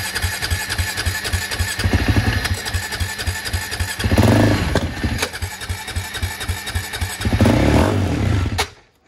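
A 2009 KTM ATV engine idles with a steady, rapid pulsing, then revs up in two loud bursts before cutting out abruptly at the end.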